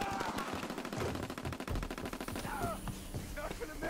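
A turret machine gun fires a sustained rapid burst in a WW2 video game, loud and continuous, with other battle noise in the mix.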